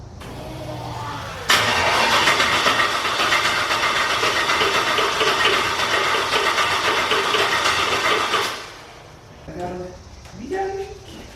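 An LS-swapped Corvette engine cranks and fires, running loud and rough for several seconds before shutting down, with voices talking afterward.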